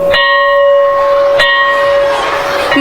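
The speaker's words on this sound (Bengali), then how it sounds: "ঠিক তখনই ঘন্টা পড়ে" A school tiffin bell rings as a story sound effect: two clear metallic strikes, each leaving a long, bright ringing tone that carries through the clip, close and fairly loud.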